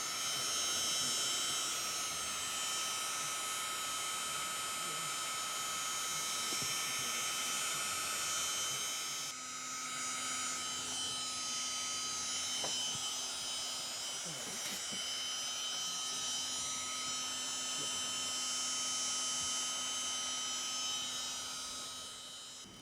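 A cordless heat gun runs steadily for the whole stretch during a hot tub leak repair, giving a constant whirring fan drone with a whiny tonal hum that shifts pitch partway through.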